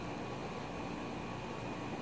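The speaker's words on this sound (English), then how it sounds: "It's a hummingbird plane." A fixed-wing airplane passes overhead as a steady, broad engine roar with a faint hiss, holding constant for the full two seconds with no voices.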